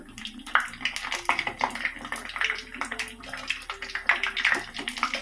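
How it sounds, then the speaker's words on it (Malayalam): Kilikoodu, a Kerala bird nest snack, fries in hot oil with a steady bubbling, hissing sizzle that rises and falls, heard close by with no talk. "ചൂടായ എണ്ണയിലേക്ക് ഇടാം."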